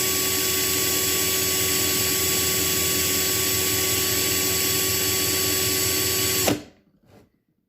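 A power drill runs continuously while drilling the post of a Matchbox car, a loud steady whine for several seconds before stopping abruptly and spinning down to silence.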